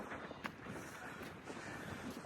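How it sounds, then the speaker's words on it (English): Strong wind on a hilltop at Calico Ghost Town buffets the microphone in a steady, roaring rush with gusty swells, loud and close, with no other sounds standing out. "it's super windy up here"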